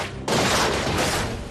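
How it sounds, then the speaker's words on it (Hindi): Gunfire aimed at Asaduddin Owaisi's car at the Chhijarsi toll plaza in Ghaziabad: a sudden loud crack bursts in and carries into a sustained, harsh roar of shots, with no voices. "2 युवकों ने उन पर ताबड़तोड़ 3 गोलियां चलाई।"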